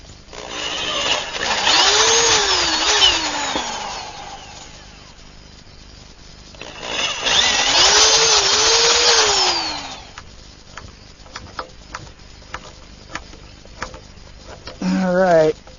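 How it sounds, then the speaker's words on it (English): A power drill boring pilot holes into a wooden flagpole for stainless steel screws: two rising, whining bursts of a few seconds each, close and loud, with a quieter stretch between them and clicks and small handling noises afterward. "First step is to drill some pilot holes."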